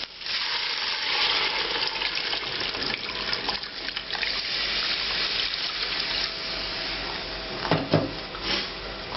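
Water pours and splashes into a pot of lamb, onions and garlic for Georgian kharcho soup, a steady rushing stream with sizzling underneath, ending in a few clunks and knocks of the pot.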